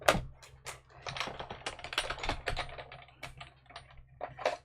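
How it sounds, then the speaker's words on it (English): Paper runs through a Stamp and Cut Emboss machine, giving a close, continuous stream of rapid mechanical clicking and ratcheting with an irregular rhythm throughout. "Let me bring over my Stamp and Cut Emboss machine."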